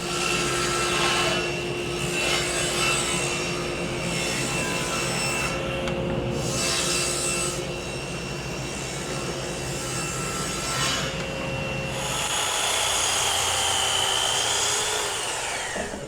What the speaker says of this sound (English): So we'll cut those pieces next.